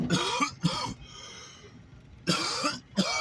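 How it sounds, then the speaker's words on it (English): Several harsh, close coughs come in bursts, separated by a short pause of quiet background. "gotta be coughing"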